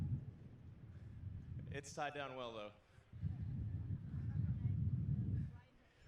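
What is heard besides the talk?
wind blowing outdoors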